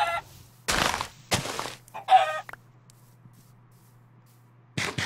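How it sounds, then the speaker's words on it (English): Chickens cluck in short bursts in the Minecraft video game, with several separate clucks over a low steady hum and quiet gaps between them. "There's chickens over here."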